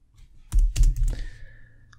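Typing on a computer keyboard while coding a form validation in ReactJS: a quick, close cluster of several crisp key clicks and thumps, then quiet.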